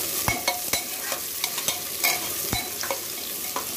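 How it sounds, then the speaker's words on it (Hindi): Chopped onions, four large ones, fry in a pan for mutton biryani while a spoon stirs them in irregular scraping strokes, sharp clacks punctuating a steady, soft sizzle close by. "प्याज को पकाते साथ ही हम लोग 2 मिनट पहले इसको पका लेंगे"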